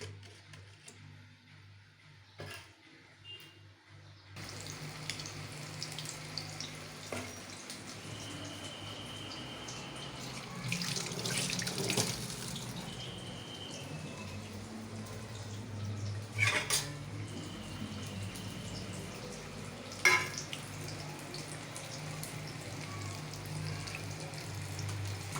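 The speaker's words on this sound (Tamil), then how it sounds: "எண்ணெய் ஓரளவுக்கு நல்லா காஞ்சதும் ஒவ்வொன்றா முக்கி நம்ம இந்த காலிஃப்ளவர் பக்கோடாவை போட போகிறோம்" Cauliflower pakoda frying in hot oil, a steady low bubbling hiss that runs throughout, with occasional clinks of a metal utensil against the pan.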